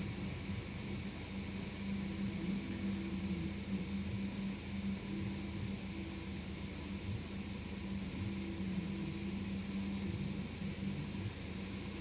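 Peugeot 3008 1.6 EP6 petrol engine running steadily after a spark plug fix, a faint, even hum with constant tones and no change in pitch, heard alone without talk.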